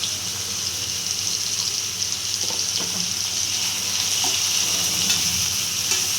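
A steady sizzle of onion and tomato sautéing in a pan for chicken curry, continuous and fairly close, with a few faint clinks of stirring and no speech.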